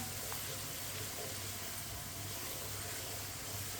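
Fenugreek leaves (methi) and potatoes fry over a medium flame as a spoon stirs them, giving a steady, soft sizzle and hiss that runs continuously and fairly quietly throughout.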